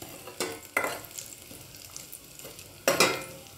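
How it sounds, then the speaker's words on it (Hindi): Grated coconut being stirred as it fries in a pan for a tadka for moong dal, with a few sharp scraping stir strokes over a soft, steady sizzle, close and clear, with no talk. "बस हल्का सा ये नारियल थोड़ा सा ब्राउन हो जाए"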